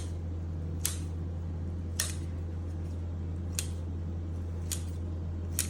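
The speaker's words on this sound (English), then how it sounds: "So go ahead and chop this with a pair of scissors" Scissors snipping through bacon in four slow, evenly spaced cuts, each a short crisp snip over a quiet background hum.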